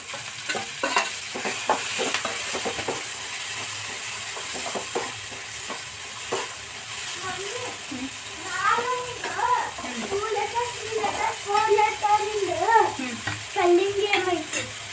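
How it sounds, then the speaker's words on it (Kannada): Turmeric, onion, curry leaves, green chilli and tomato frying in a pan, a steady sizzle with stirring taps and scrapes, while someone talks over it. "ಈಗ ಸ್ವಲ್ಪ ಅರಿಶಿನ ಹಾಕ್ತೀನಿ. ಅರಿಶಿನ, ಉಳ್ಳಾಗಡ್ಡಿ ಕರಿಬೇವು, ಈಗ ಹಸಿಮೆಣಸಿನಕಾಯಿ, ಟೊಮೆಟೊ."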